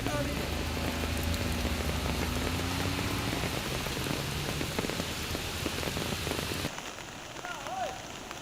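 Heavy monsoon rain pours down in Koppa, Chikmagalur, a dense, steady hiss of drops on surfaces that holds loud and unbroken, then drops to a quieter patter near the end.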